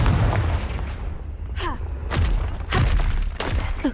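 Confringo fire blast spell in the Hogwarts Legacy video game, a few heavy booming impacts and thuds over a dense rumbling game background.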